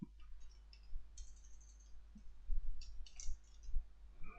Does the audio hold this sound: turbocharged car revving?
no